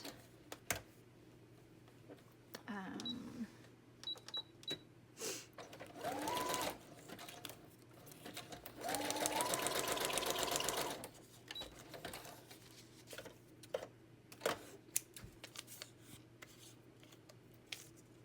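Sewing machine stitching down the middle of a small handmade journal, a couple of short bursts of mechanical stitching among quiet handling clicks and rustles.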